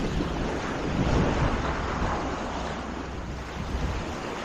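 Rough, active ocean surf churns along the hidden San Diego coastline, a dense, continuous wash of breaking waves mixed with gusty wind buffeting close to the microphone.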